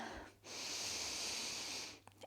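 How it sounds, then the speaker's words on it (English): A single slow, deep breath taken during a gentle morning yoga breathing exercise, heard up close as a long, steady airy rush lasting a couple of seconds, with no talking over it. "one final round of breath together"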